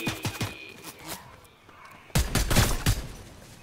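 Gunfire in a video game: a few quick shots early on, then a louder burst of rapid firing in the second half, heard close alongside faint voices.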